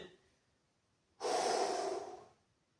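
A single deep breath during a lower-body stretching routine: quiet at first, then one strong, close, breathy exhale lasting under a second before fading.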